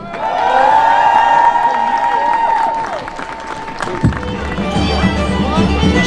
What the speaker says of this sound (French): je crois qu'on peut l'applaudir bien fort